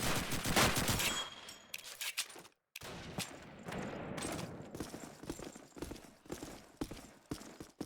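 Gunshots in the video game Call of Duty 2 during a competitive match: dense, loud rapid fire, then a brief silence, followed by scattered shots and clattering game effects.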